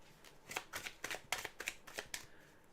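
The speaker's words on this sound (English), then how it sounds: "let's shuffle" Tarot cards being shuffled by hand in a quiet room, a quick run of soft, papery riffles and flutters arriving in rhythmic bursts, close and fairly faint, with no talking.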